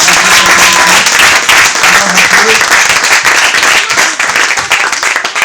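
A church congregation claps and applauds in praise, a dense, loud wash of hands that carries steadily throughout with voices mixed in.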